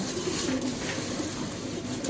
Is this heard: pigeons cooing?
yes